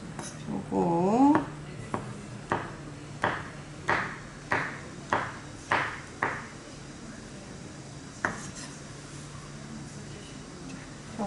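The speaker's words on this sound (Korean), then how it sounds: "표고는 썰어주셔야 돼요." A kitchen knife slices shiitake mushrooms on a cutting board in a cooking class, giving about eight evenly spaced crisp knocks after a brief clatter, near and clear with quiet surroundings.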